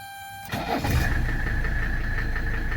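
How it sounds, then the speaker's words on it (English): A 1985 Mercedes 300SD diesel engine cranks briefly from cold and catches, then settles into a steady, rumbling idle with a knocking diesel character. "let's do a cold start on the engine"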